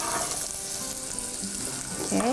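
Onion cooking in butter in a pan gives a soft continuous sizzle and bubbling hiss, fairly close, with a brief rising tonal squeak near the end and no talking.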